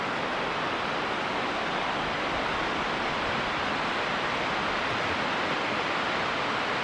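Whitewater Falls in North Carolina, a tall waterfall in spring, pours as a steady, dense rush of water that stays even and unbroken throughout, with no voices.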